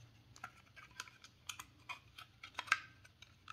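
Small sharp metallic clicks and taps come from reassembling a US Army pistol as the trigger is pressed, a handful of close, separate snaps spaced irregularly against a quiet background.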